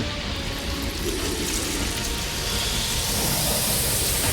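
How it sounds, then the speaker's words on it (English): Deadly rain spell effect from the video game Legend of Legaia, a steady hiss of falling rain that swells slightly louder toward the end, filling the whole clip without any voices. "Deadly rain."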